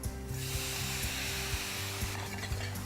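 Frozen spinach and onion frying in a pan, a steady close sizzle under a low hum with faint stirring scrapes throughout.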